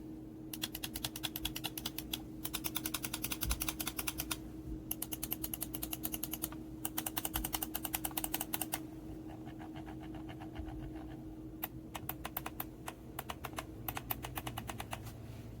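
Rapid series of crisp mouse button clicks from a Razer DeathAdder V3 Pro lightweight gaming mouse, clicked in bursts with short pauses, close and distinct over a low steady hum.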